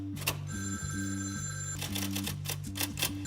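A telephone bell rings in steady repeated bursts, fairly faint behind a low background tone, in a scene from the 2006 film Stranger Than Fiction.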